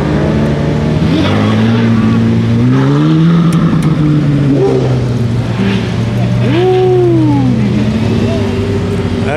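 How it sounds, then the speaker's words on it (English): Sports cars, including a yellow Urus, rev and pull away one after another as they leave a Cars & Coffee meet. Loud, close engine notes rise and fall in pitch, with people talking over them. "getting all these cars leaving."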